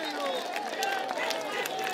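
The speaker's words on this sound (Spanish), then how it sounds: "esos aplausos para la primera pelea pactada de Hans Pérez versus Franco Vila" Outdoor crowd applause after a Takanakuy bout between Hans Pérez and Franco Vila, a steady wash of clapping and cheering mixed with chatter and a faint whistle-like tone.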